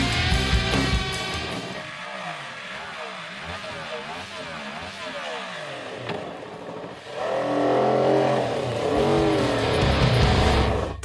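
A 2026 Yamaha MT-03 Connected motorcycle ridden two-up with a passenger, its engine note rising and falling through gear changes while filtering between lanes in traffic, with wind noise and a rider talking throughout.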